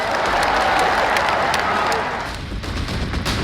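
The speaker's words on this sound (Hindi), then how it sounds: "ठोको ताली" An audience applauds at a televised political segment about Punjab. The clapping forms a dense wash that dips briefly midway before continuing.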